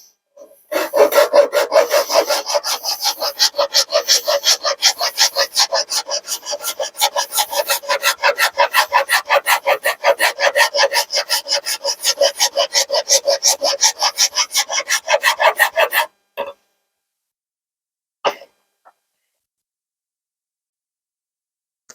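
A hand file rasps steadily across a wooden pendant, held at a constant height to flatten it, in rapid, even close-up strokes for about sixteen seconds, then stops, followed by a couple of isolated knocks.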